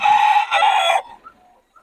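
Wet chickens and a rooster crowing in the rain: two loud, close crows back to back, each about half a second, followed by a few faint clucks.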